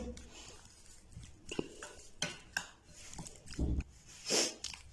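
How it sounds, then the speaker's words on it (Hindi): Chicken tikka marinade of spices, lemon juice and cooking oil is mixed in a bowl: quiet, irregular clinks, scrapes and wet stirring knocks, close and fairly faint. "ये डालने के बाद सारी चीज़ों को जो है वो अच्छी तरह मिक्स करेंगे।"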